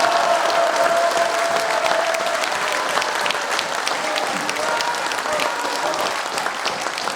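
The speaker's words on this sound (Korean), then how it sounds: "박수 한번 하시죠." Steady applause from an audience at a Korean lecture-style gathering, filling the whole stretch evenly at a consistent volume with a faint crowd murmur beneath.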